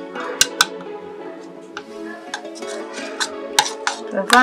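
A spoon stirs egg yolk into a potato peel and coffee mixture in a bowl, giving a run of irregular scraping clinks with a few sharper knocks against the side.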